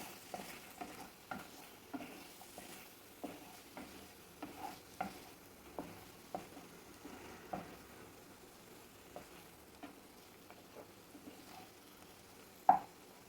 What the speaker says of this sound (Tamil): இப்போ அதில் வந்து கேஷ்யூ, அதுக்கப்புறம் பாதாம் அதையும் ஆட் பண்ணிவிட்டு திரும்ப ஒரு ஃப்ரை பண்ணணும்